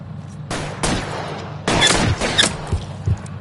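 Gunfire erupts in a shootout in the video game L.A. Noire, loud bursts of overlapping shots and rapid volleys crackling in clusters with short gaps between them.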